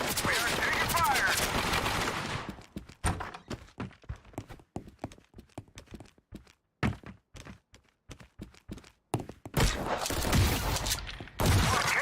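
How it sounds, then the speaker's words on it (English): Battle gunfire in the World War II shooter Hell Let Loose: dense bursts of rifle and machine-gun fire, loud at first, then scattered sharp cracks and thuds, before heavy sustained fire returns. "We are taking fire."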